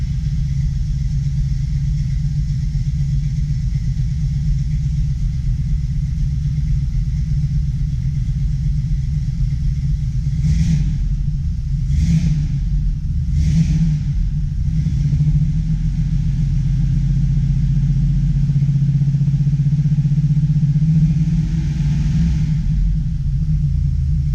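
A 1972 Chevy Nova SS V8 on a cold evening rumbles steadily at close range, with a few brief throttle blips swelling the low growl before it settles back to a loud idle.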